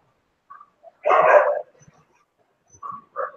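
A dog barks once loudly and close, followed by a few fainter yips and muffled woofs, with quiet gaps between them on a call.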